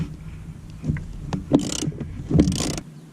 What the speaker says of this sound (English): So we'll get this OEM bolt out of here, and then get the belt in.